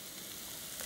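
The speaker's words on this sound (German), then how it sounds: "das muss jetzt so ein bisschen brutzeln. Und dann kommen rein Zucchini und Zwiebeln." Zucchini and onions sizzle in a hot pan, a steady close hiss of frying that stays even throughout with a brief brighter crackle near the end.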